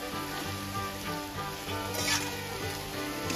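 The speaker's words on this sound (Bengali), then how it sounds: "ভেজে রাখা ছাতু দিয়ে একটু ভালো করে নাড়বো" Fried sattu with turmeric and spices is stirred in a hot pan, a steady close sizzle with faint scraping and a tonal hum underneath, no voices over it.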